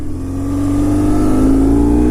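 A BMW R1150 R boxer-twin motorcycle engine revs up steadily and loudly close by, its low throbbing note rising gradually in pitch across a couple of seconds with no voices.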